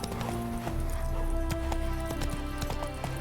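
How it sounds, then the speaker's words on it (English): Horse hooves clip-clop in The Witcher 3 game, a quick, close, irregular run of sharp hoof strikes over a low ambient bed, alone without talk. "Spooking my horse."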